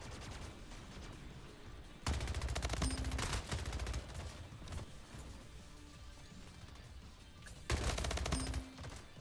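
Rapid SMG gunfire in the video game Splitgate, two loud close bursts of fast automatic shots, the first around two seconds in and the second near the end, with quieter game effects between them.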